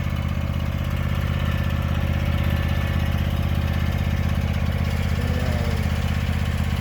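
A riding lawn mower with a Kawasaki engine and new blades runs steadily at a constant throttle, its continuous drone loud and close with no pauses and no voices over it.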